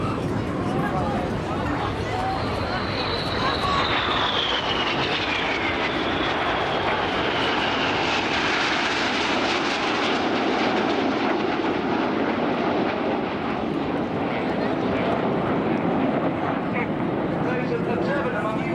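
A Red Arrows jet in formation display sweeps past with a loud, sustained roar that swells and fades, under a commentator's voice and crowd noise.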